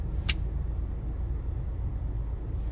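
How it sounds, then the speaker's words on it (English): A car pulls away from behind a waiting vehicle on a road in Dolton Valley, a steady low engine rumble holding close and constant, with a brief hiss near the start and no talking. "The car in back of me decided he wanted to get the hell out of here."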